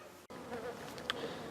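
Honey bees buzz around backyard hives on a warm late-season day, a continuous close droning hum with a few individual bees passing near.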